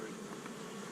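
Honey bees in a hive hum as a continuous, even buzz, close and steady with no talk.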